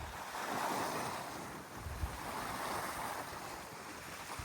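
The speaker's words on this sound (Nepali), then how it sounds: "कस्तो आनन्द आउनेछ है समुद्रको छालहरू" Sea waves wash steadily onto a beach in Holbæk, Denmark, as a broad continuous surf roar mixed with wind buffeting the microphone, with no voices.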